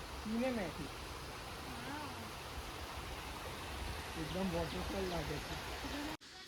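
A small waterfall and stream running over rocks in Idukki, a steady broad hiss under faint wavering tones, with a voice speaking over the rushing water.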